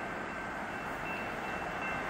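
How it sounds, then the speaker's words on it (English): A steel coil freight train rolls past, a loud steady rumble and rail roar holding level throughout with no voices. "we got the steel coil train coming in a line here"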